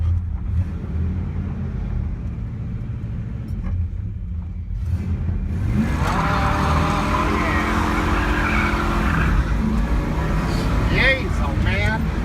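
An engine roars as a 325 horsepower car accelerates hard, loud and close, with tire noise rising midway and a voice talking over it.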